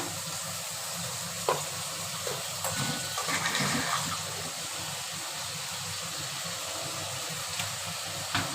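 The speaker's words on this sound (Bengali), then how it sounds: "দেখুন প্লেট ধোয়া জলটা দিয়ে দিলাম মশলা" Water rinsed from a plate is poured into spices frying in a pan, giving a steady loud sizzle with a brief hissing surge and stirring noises, no talking.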